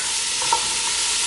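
A close, steady hiss of vegetables frying in a pan, with a single quick stir and scrape of the utensil near the middle.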